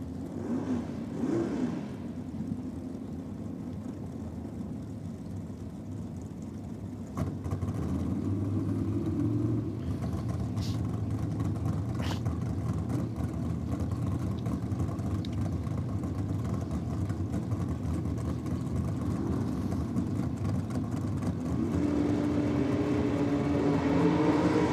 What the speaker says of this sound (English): Down on track in the Aeroflow lane, and he's taking on Adriana McCaskill in the Pro Street Towing and Transport dragster